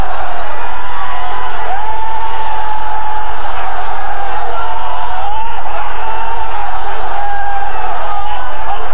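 A large crowd at a Bengali religious sermon gathering chants the slogan Nara-e-Takbir, a loud sustained roar of many voices swelling together, heavily saturated and continuous.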